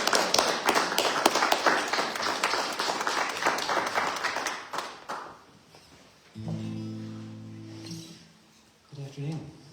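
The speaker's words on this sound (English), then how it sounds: "A big hand of applause." Audience applause for a performer at a church fellowship service: a dense, steady wash of clapping for about five seconds that fades out, followed by a sustained musical tone and brief talk.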